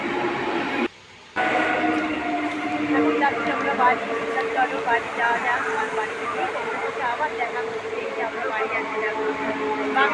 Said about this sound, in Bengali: বাগনানে ট্রেনটা চলেই আসলো।